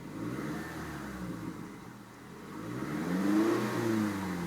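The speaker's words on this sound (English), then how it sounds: "The exhaust has been tuned just a little bit to give it a little sportier feel." 2012 Scion tC with a lightly tuned sporty exhaust, its engine revving in a few rising and falling swells, heard nearby and alone with no talking.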